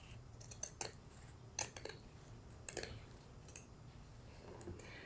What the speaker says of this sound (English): Pair of pinking shears, so I'm gonna cut outside